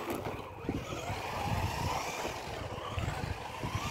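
A Traxxas Mustang GT 4-TECH 2.0 RC drift car accelerates with a steady, faint electric motor whine and rumble that stays continuous throughout, somewhat distant.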